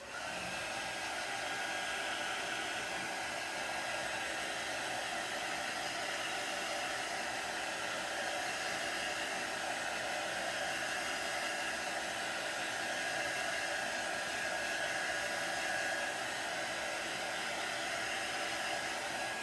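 A hair dryer blows steadily over a distressed craft project, a loud, unbroken airy roar and hiss lasting the whole stretch, with no voices.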